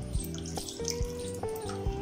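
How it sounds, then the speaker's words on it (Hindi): Water pours into a pot for making rice papad, a steady splashing stream with a few sharper drips, close and alone. "तो 3 कप मैंने पानी डाल दिया।"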